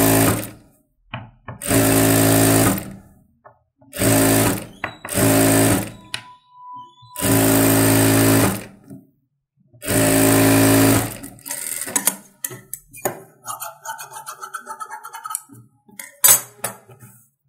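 Sewing machine running a rough stitch on a saree blouse, several loud whirring bursts of a second or two separated by pauses, followed by lighter clicks and handling of fabric and tools.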